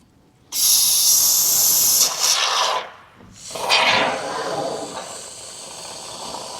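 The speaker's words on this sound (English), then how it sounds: "I'm going to spray foam this now." A strong, steady hiss from a spray foam can sealing a hole by a meter socket bursts out for about two seconds, fades briefly, then returns as a softer, sputtering hiss that trails off.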